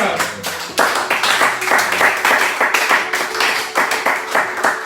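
A church congregation claps and applauds during a sermon, with dense, rhythmic hand claps and cheering filling the room loudly alongside voices.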